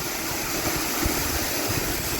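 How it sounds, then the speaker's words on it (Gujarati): An electric water pump motor runs at a farm borewell, a steady, broad mechanical hum and rush that stays level throughout, with no talk. "જો બાપુ મોટર ચાલુ કરી દીધી"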